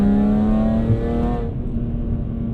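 BMW E46 M3 ZCP on track with exhaust valves open, a loud, steady engine howl holding pitch before dropping off suddenly to a lower, rougher idle-like rumble.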